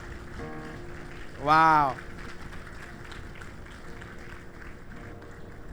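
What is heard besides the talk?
church congregation applause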